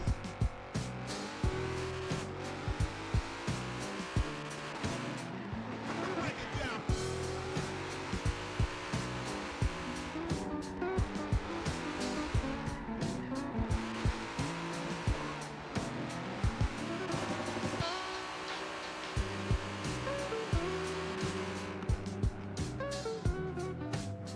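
A drift car in Forza Motorsport 7 at the Nurburgring screams at high revs, its engine note rising and falling through gear changes while tires squeal continuously through long slides.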